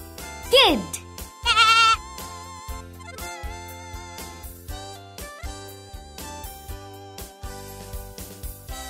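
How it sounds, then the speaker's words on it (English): A young goat kid gives two short, high, quavering bleats in quick succession over quiet background music. "Kid."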